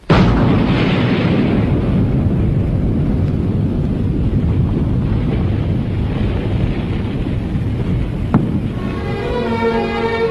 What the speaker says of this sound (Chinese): 我国第一颗氢弹爆炸成功了。